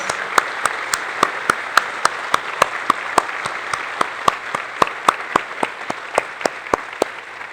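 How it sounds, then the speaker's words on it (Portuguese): Congregation at an Advent church service applauds a vocal group, with steady rhythmic clapping in unison, sharp regular beats over a continuous wash of crowd applause. "Salva de palmas ao grupo vocal Kairos."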